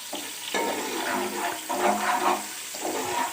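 Chopped onions fry and brown in a pot of oil for zeera pulao, a steady close sizzle broken by several scraping stirs, with no talking.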